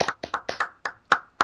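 A handful of sharp hand claps from a single nearby person, about seven spaced beats in a quiet room, with no talking.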